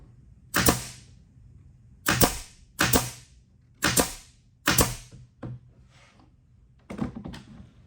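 Folded upholstery webbing on a cushion frame is fastened with a staple gun: six or seven loud, sharp close-up snaps at irregular intervals, each with a brief metallic ring, and no speech.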